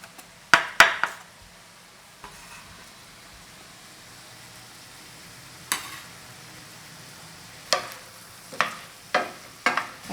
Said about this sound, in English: I need to keep stirring to cook this my zucchini